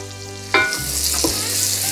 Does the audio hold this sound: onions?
yes